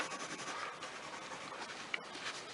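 A pencil writing on paper, faint continuous scratchy strokes close by, quiet and steady with no talk.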